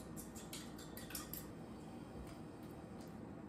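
A spoon mixes ramen sauce with egg and Japanese mayo in a bowl, giving quick, close clinks and scrapes for the first second and a half before settling into quieter stirring.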